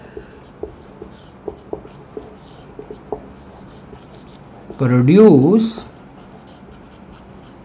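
A marker or chalk writes a line on a board during a physics lecture, giving a short burst of scratchy strokes, preceded by faint taps, while the lecturer talks.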